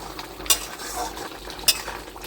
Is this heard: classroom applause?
no